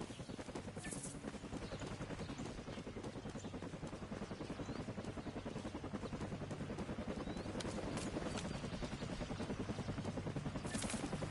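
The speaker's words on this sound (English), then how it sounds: "What's that helicopter at?" A helicopter in a video game thumps its rotor in a fast, steady chop, fairly quiet and continuous, growing slightly louder toward the end.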